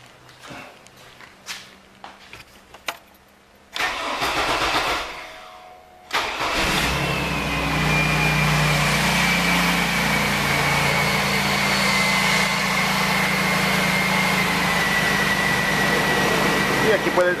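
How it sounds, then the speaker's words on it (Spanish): A car engine cranks and catches, then settles into a steady idle after some nearby footsteps and handling sounds, while a voice speaks faintly over the running motor. "vamos a prender el carro y dejarlo en marcha mínima"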